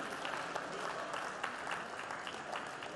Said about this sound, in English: Give your partner a round of applause for sharing